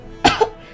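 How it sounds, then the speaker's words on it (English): A character in a Roblox story gives a slight cough: two short, close coughs, the first sharper and the second softer, heard alone and up close. "it is causing me to have a slight cough"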